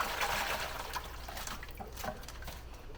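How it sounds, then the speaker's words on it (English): Old fish store water drains out of a fish bag with soft splashing and trickling, fairly quiet and continuous, with no talking. "Drain out all the old fish store water."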